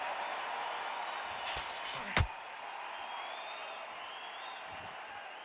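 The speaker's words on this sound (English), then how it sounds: "The crowd here cannot wait. They've been buzzing all day long" Crowd noise fills a boxing arena in the video game Undisputed as a steady, dense roar, with a brief sharp slap or impact partway through.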